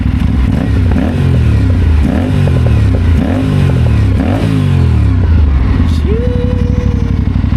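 A Yamaha XSR900 motorcycle exhaust roars while riding on an expressway, with repeated rising revs and gear changes in a steady rhythmic pattern, loud and close, ending with a brief high tone.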